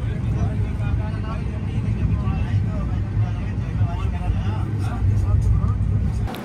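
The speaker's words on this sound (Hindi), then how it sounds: "ये दुर्ग छपरा सारनाथ एक्सप्रेस है जिसको हम ओवरटेक कर रहे हैं।" Duronto Express train overtaking the Durg Chhapra Sarnath Express, heard from on board as a loud, continuous rumbling roar of wheels and rushing air, steady throughout with slight swells near the end.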